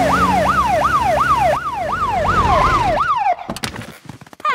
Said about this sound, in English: Can we use the siren again?